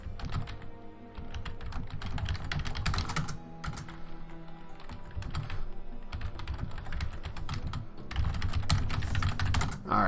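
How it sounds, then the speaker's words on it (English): Computer keyboard typing during a Scrolls card game, a close, rapid clatter of keystrokes in bursts with brief pauses between them and no speech. "while I was typing the Jupe there"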